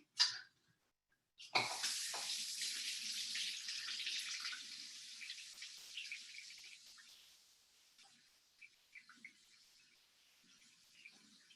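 Warm water gushes from a kitchen tap after a brief click, a bright steady hiss that tapers off after several seconds into faint trickles and drips, close by with no talk.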